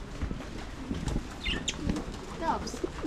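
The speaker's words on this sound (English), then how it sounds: "Doves." Doves coo softly a few times in a busy market aisle of household goods, with scattered wing flaps and chirps under background chatter and people talking nearby.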